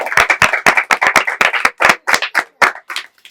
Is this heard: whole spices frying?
no